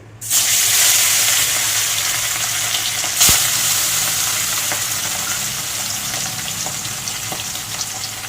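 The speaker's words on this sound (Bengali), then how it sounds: "তেল গরম হয়ে গেছে এবার মাছের ভেজা দুটো ভেজে নেবো" Pieces of hilsa fish, the tail portions coated in salt and turmeric, frying in hot oil in a wok, with a steady loud sizzle throughout and one sharp clank near the middle; no one speaks.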